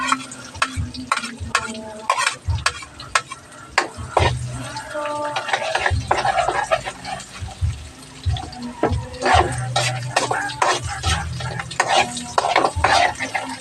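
Garlic, onion and ginger sautéing in a pan for escabeche, a loud continuous sizzle broken by frequent spatula scrapes and clanks against the pan, with no talking.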